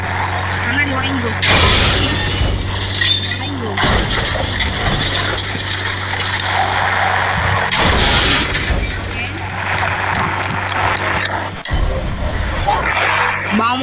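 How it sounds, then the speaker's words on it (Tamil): Glass shatters repeatedly in a video game, with several loud crashing bursts breaking over a steady low game hum and background noise. "கண்ணாடி உடைங்கோ."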